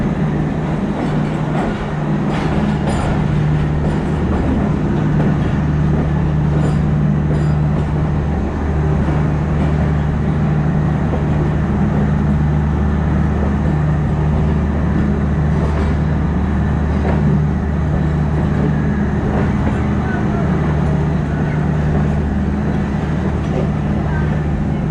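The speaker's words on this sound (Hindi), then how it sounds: "पाकिस्तान एक्सप्रेस रोडी स्टेशन को खैरबाद कहते हुए अपने अगले स्टेशन घोटकी सदकाबाद और रहीम यार खान की तरफ बढ़ रही" Pakistan Express passenger train hauled by a GEU40 diesel locomotive rolling along the line, a loud steady low engine drone and rumble with faint clatter throughout, heard from on board.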